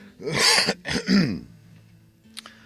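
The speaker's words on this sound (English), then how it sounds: "Smoker's cough." Harsh, raspy cough with throat clearing, two loud phlegmy bursts close up, followed by quiet.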